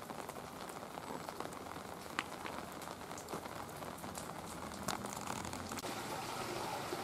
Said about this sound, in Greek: Η βροχή συνεχίζεται.